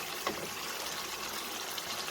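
Half a cup of water pours steadily into a chicken karahi pan with a soft, continuous splashing hiss, fairly quiet and close.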